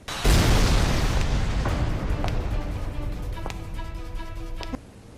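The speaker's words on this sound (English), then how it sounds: "before Psycho Killer tosses an exploding knife at I" A thrown exploding knife detonates in the sci-fi action film Travelers Dimension Police: a sudden loud boom with a long rumbling decay, then sharp metallic clanks and ringing debris before the sound cuts off abruptly.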